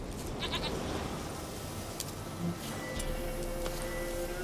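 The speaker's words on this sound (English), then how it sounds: "Here, goat." Goat bleating in the video game The Witcher 3, with a few short faint calls standing out over a steady ambient game background.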